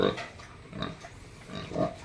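Pigs on a small farm grunting in a few short bursts, close by, with brief low snorts spaced across a couple of seconds and no talk.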